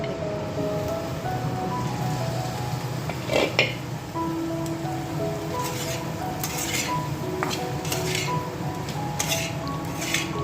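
Pumpkin and potato vegetable curry cooking in a home kitchen, with steady sizzling and soft squishy stirring, occasional clinks of a utensil against the pot, and no talking.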